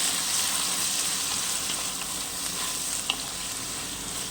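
Green chillies and tomatoes frying in a pan for brinjal chutney give a steady, close sizzle with faint stirring scrapes and one small pop, no talking.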